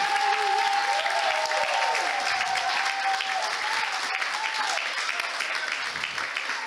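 A church congregation claps in sustained, dense applause that fills the room from start to finish, with a sung or spoken voice carrying over it.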